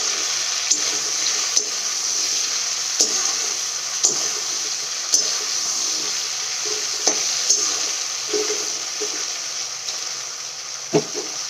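Mixed vegetables frying in oil in a pan for a vegetarian chhechra, a continuous bright sizzle broken by periodic scraping stirs and a few sharper clacks, close and steady throughout.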